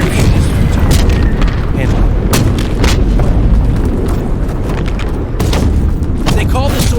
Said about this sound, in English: They call this sort of shelling drum fire